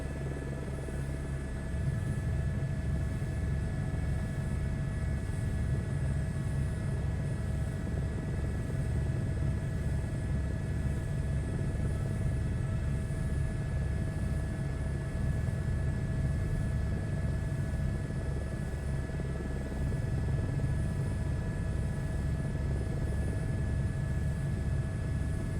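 A simulated aircraft in Microsoft Flight Simulator 2024 taxis to parking, its engine a steady low droning rumble with a faint pulsing beat and a thin high whine, holding evenly throughout.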